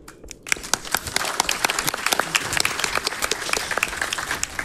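An audience applauds steadily at a live speedrun event for Halo: Combat Evolved, a dense crowd of claps filling the room with no talk over it.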